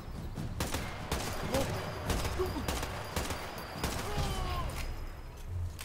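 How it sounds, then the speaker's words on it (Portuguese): Sniper rifle fire in the Sniper Elite 4 video game, a run of sharp, loud shots spaced irregularly through the clip over a steady background of in-game ambience. "Parece que eu tomei um tiro de sniper."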